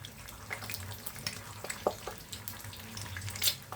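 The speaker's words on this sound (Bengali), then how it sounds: "আমি ডিম এখানে 4টা ঝুরা ঝুরা করে নিয়েছি" Four eggs seasoned with Maggi masala scramble in a hot pan, a soft crackling sizzle with scattered small pops and light spatula scrapes, fairly quiet and without talk.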